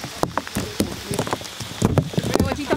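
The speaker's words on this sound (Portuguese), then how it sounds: "Ó, tá chovendo." Rain falls during campfire camping, a steady pattering of drops on surfaces with scattered louder taps, close by and moderately loud throughout.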